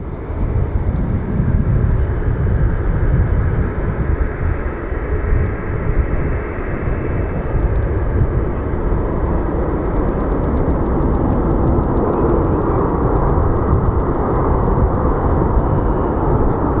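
A fixed-wing airliner rolls out after touching down at Phoenix Sky Harbor airport, a steady broad roar of jet engines heard from a distance, sustained and even throughout with no talk.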